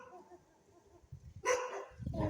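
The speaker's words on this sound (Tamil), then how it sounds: "நாயெல்லாம் கொலைக்குது" Dogs on a street in Bangalore break into a sudden, close bark followed by another burst, rising out of a quiet background with faint low noise.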